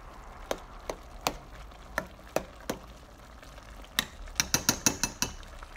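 Ground beef with salt being stirred in a pan, a series of sharp spoon scrapes and clacks against the metal at a steady pace, quickening into rapid strokes near the end, over a faint background hiss.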